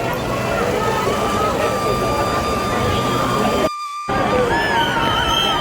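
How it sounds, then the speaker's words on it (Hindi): A large, dense crowd of devotees at Lalbaugcha Raja in Mumbai during Ganpati darshan, a loud continuous roar of voices and shouts that briefly drops out before resuming, with people talking throughout. "अभी और तो बहुत भीड़ है चारों तरफ, और बहुत भीड़ है भाई।"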